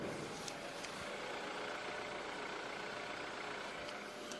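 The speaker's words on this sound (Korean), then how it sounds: "굉장히 정숙한 엔진 소음 만나보실 수가 있습니다" A BMW 528i petrol engine idling smoothly, a soft, steady and quiet hum held evenly throughout with no revs or voices.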